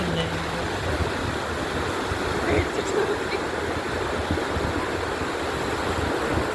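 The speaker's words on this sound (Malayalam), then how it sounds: "കടൽത്തിരകൾ" Sea waves at Kozhikode beach make a continuous broad wash of surf with gusty wind buffeting the microphone, and voices come through faintly now and then beneath the roar.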